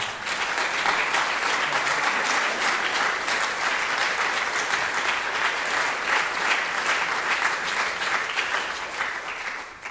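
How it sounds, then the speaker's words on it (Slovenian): An audience at a regional choir and vocal ensemble revue claps steadily for nearly ten seconds, a full, even round of applause with a faint rhythmic pulse that tapers off at the very end. "En aplavz, prosim."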